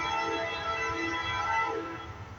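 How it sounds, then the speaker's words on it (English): A long northbound CSX coal train with many locomotives near Springfield, Tennessee, blares a loud, sustained multi-tone horn over the deep rumble of its engines, fading slightly at the end. "Got a coal train, looks like, maybe."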